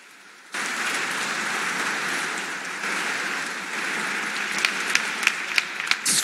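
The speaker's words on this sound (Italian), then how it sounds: "una platea che le riserva un applauso sul tema delle carceri" Audience applause for the Italian Justice Minister at a live interview event, a dense, steady roar of clapping that starts abruptly and holds, with a few sharper individual claps near the end.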